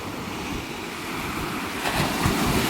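Ocean waves wash onto a shore outdoors away from the city, a continuous rushing surf with wind noise on the microphone, swelling slightly louder toward the end, with no talking.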